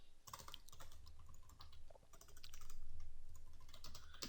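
Steady typing on a computer keyboard, a quick run of close, crisp key clicks with brief pauses, no voices over it.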